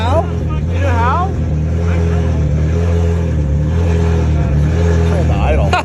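A Ferrari 458 with a naturally aspirated engine holds a steady, loud, close rumbling drone while spinning donuts, with people talking and shouting over it throughout.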